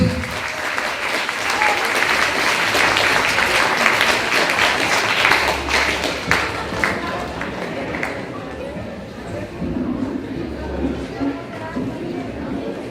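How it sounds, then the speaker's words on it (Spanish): Sustained loud applause from a large crowd at a book fair, cheering children after a performance, steady clapping with some chatter mixed in, fading slightly toward the end. "Una vez más, fuertes aplausos para los niños."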